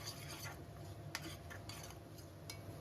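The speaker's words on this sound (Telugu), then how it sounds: "ఇప్పుడు మళ్ళీ ఒకసారి బాగా కలుపుకోవాలి" A spoon stirs cooked tomatoes with salt, turmeric and chili powder in a pot, faint clinks and scrapes of metal over a low steady background hum.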